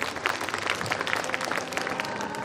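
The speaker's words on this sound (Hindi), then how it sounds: "आपकी भरपूर तालियों की गूंज में तशरीफ़ लाते हैं ख़याम अरशद।" A crowd claps warmly at a speech gathering as a speaker is welcomed to the stage, a dense burst of applause lasting a couple of seconds.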